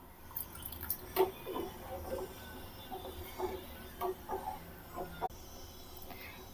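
Lemon juice dripping and trickling into milk as it splits to make homemade paneer, a run of soft, close liquid drips and splashes with no talking.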